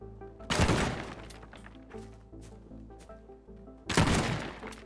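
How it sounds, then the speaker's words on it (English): Shotgun blasts tear into a tower in the demolition game Teardown, two heavy crashing booms with shattering debris and rubble clatter between them, loud and alone. "I almost used all my shotguns there"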